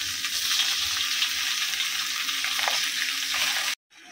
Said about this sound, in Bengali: আর এখন মাছ ভাজা হচ্ছে।